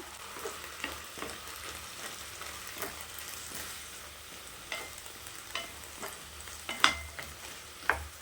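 Grated coconut and other chutney ingredients sautéing in a pan, a soft crackling fry under repeated spoon scrapes and a few sharper clinks toward the end, close and fairly quiet with no speech.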